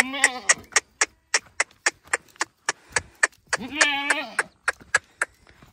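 A goat out in hill pasture bleats twice, once near the start and again midway, both loud and close. A fast, regular clicking runs steadily through the whole stretch.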